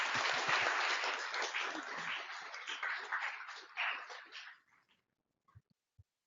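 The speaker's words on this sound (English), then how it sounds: "Let's give another round of applause." Audience applause at a cryptography meetup, a sustained wash of clapping from a seated crowd that gradually thins and fades to silence, leaving a few isolated claps and faint knocks.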